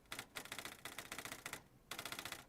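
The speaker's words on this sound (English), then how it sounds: "This is a typewriter sound" Rapid typewriter key clatter from the game Fate/hollow ataraxia, two bursts of quick regular strikes separated by a short gap, clean and alone.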